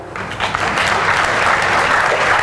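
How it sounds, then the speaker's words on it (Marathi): Women in the audience at a talk on rural India break into applause, a loud, dense burst of clapping that swells quickly and holds steady. "टाळ्या महिलांनी."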